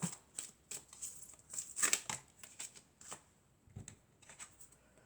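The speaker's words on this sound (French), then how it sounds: "Ensuite, on va prendre encore quelques cartes." Tarot cards handled and drawn from a deck, with soft intermittent riffles, slides and taps of card stock, fairly quiet and close, with no talking.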